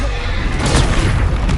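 A Bombarda blasting spell explodes in the Hogwarts Legacy video game: a dense, loud, booming blast that rumbles steadily for under two seconds.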